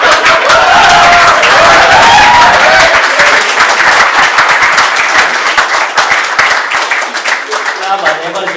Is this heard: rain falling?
no